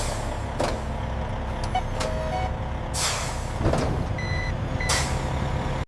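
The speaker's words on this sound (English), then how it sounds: "All right, next truck, bring it forward to the line." A truck pulls up at a sweet potato processing factory, engine rumbling close by, with sharp hissing bursts of air brakes and intermittent reversing beeps over steady industrial background noise.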